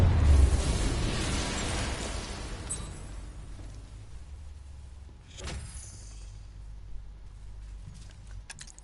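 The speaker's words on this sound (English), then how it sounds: "I'm not far enough away to detonate the explosive." An explosive detonates at a vault in Batman Arkham Knight, a loud blast up front rolling into a fading rumble, followed by debris and mechanical clatter.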